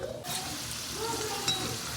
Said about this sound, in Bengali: আমি দুটো দুটো করেই ভাজা করে নিচ্ছি